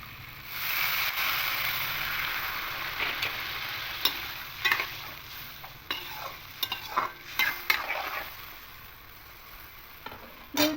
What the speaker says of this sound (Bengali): মশলাটা খুব ভালো করে কষিয়ে নিচ্ছি দেখুন একদম শুকনো শুকনো হয়ে গেছে